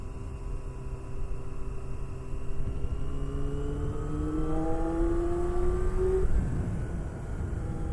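A Yamaha FZR400RR, an older 400cc Japanese sport bike with underinflated tires, cruising gently with a steady engine drone whose pitch climbs as it revs up, then drops back, over constant wind rumble.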